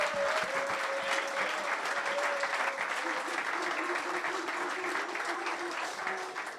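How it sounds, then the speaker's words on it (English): A crowd applauding at a celebration event for the DS Eagles, dense, continuous clapping that stays loud throughout, with some voices mixed underneath. "So round of applause again for DS Eagles."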